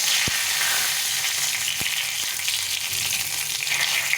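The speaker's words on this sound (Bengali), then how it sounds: "এখন এর মধ্যে একটু জিরে ফোড়ন দিয়ে দেবো আর একটু তেজপাতা" Cumin seeds and a bay leaf sizzle in hot oil, a steady close hiss of frying with a few sharp pops and light stirring taps.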